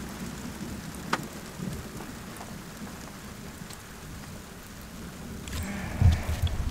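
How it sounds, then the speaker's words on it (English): Steady rain falls during an outdoor thunderstorm, a continuous dense hiss with a low rumble of thunder underneath and a few sharper knocks near the end, with no voices. "It's raining and there's just a thunderstorm."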